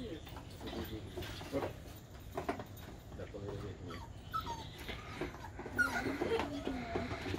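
Several dogs, including puppies, whimper, yip and bark in short bursts close by, with people talking intermittently over the busy, noisy scene.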